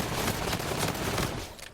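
Sustained automatic gunfire from a Call of Duty: Infinite Warfare match in the Frontline game mode, a dense continuous burst of rapid shots loud throughout, easing slightly near the end.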